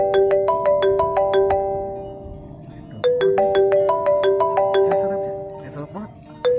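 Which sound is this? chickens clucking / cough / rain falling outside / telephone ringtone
telephone ringtone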